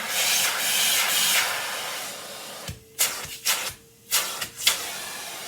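An Electrolux central vacuum system runs with a steady airy hiss that cuts out, then is switched on and off several times in quick succession, each start a short whooshing surge.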